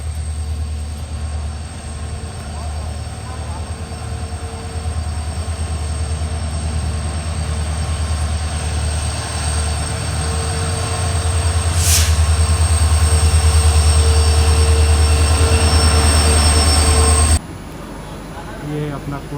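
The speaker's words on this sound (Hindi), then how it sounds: "ये हमारा लोकोमोटिव आ रहा है।" Locomotive of the Porbandar-Motihari Express arriving at a platform, with a loud sustained rumble of engine and rolling wheels that grows heavier as it draws near, plus a brief high squeal before it cuts off.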